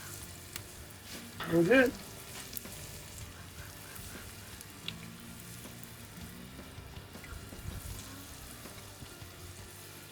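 Chicken thighs frying in avocado oil on a flat-top griddle, a steady soft sizzle running throughout with a brief louder burst near the start and a few short words spoken over it.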